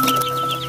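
Native chickens on a rural garden homestead give a short, close cluck against a steady hum of outdoor background noise, with no voices.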